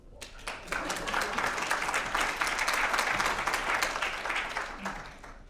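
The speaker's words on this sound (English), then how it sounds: "We can give him a round" An audience applauds a speaker at a talk on horticultural lighting, clapping swelling quickly into a steady round of moderate strength and then tapering off near the end.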